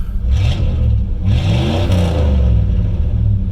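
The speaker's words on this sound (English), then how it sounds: "and we're going to rev it a couple times." Small block Chevy V8 in a third-generation Camaro, an older engine with worn valve guides, revved twice from idle, each rise swelling and falling back to a loud rumbling idle close by.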